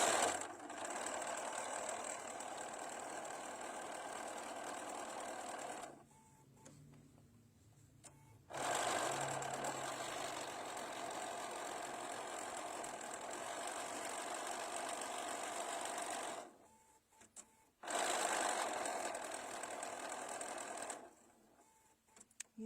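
A sewing machine stitches jumbo red rickrack onto a towel, its steady motor whir running in three long bursts separated by short quiet pauses, with no talking.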